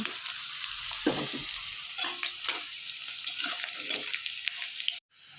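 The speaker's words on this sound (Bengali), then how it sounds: "এরপর তেলের ওপরে একটু গরম মশলা ফোড়ন দিলাম, তারপর পেঁয়াজ দিলাম কিছুটা।" Garam masala and onion fry in hot oil with a bright crackling sizzle, broken by scattered stirring and clinking sounds, before cutting off abruptly near the end.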